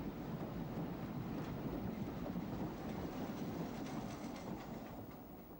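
A Southern Railway M7 steam locomotive train runs past, a continuous rumbling roll of wheels and carriages with faint rhythmic clatter over the rails, steady and moderately distant without any voices.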